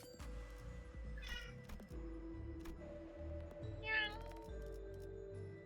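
A cat meows twice in the background, two short high calls a few seconds apart, faint and somewhat distant over a low steady hum of game music.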